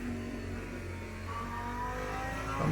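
Race car in the Le Mans Ultimate sim at Spa-Francorchamps, its engine a steady moderate drone rising slightly in pitch as it accelerates, heard from inside the car at constant level.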